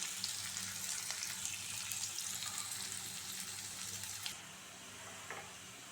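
Chopped onions frying in a pan with a steady, soft broadband sizzle that carries throughout and drops a little near the end, with a few faint clinks; no talking.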